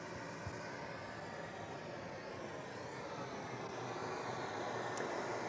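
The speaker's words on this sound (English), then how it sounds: "We'll do some pink noise." Pink noise plays from a loudspeaker in a room being measured, a steady, even broadband hiss that holds constant throughout, fairly faint and without voices.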